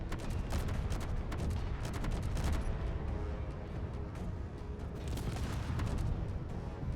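Space Engineers autocannon fire in quick bursts of repeated thumping shots, moderately distant, over a constant low rumble of engine and ambient noise, with no talk.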